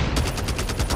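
A DR-H rifle in COD Mobile fires a rapid automatic burst, about nine evenly spaced, punchy shots in one second, loud and close.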